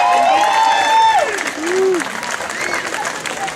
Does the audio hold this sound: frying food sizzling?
no